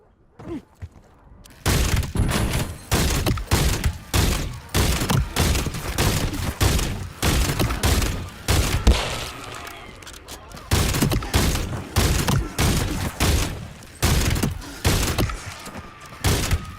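Video game gunfire from a single weapon crackles in dense, rapid bursts, loud and close, with brief pauses between volleys before the shooting resumes.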